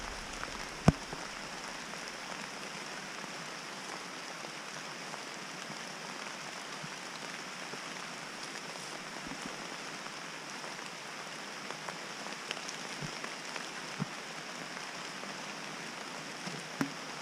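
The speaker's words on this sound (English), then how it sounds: "peeing down now" Heavy rain pours steadily beside a French canal at a carp fishing spot, a constant soft hiss with a few scattered louder drops, no voices, continuing evenly throughout.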